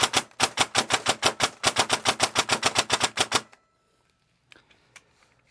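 A VFC 417 airsoft rifle fires rapidly in semi-auto, about two dozen sharp, evenly spaced shots in a quick rattling burst before it falls silent, followed by faint handling clicks.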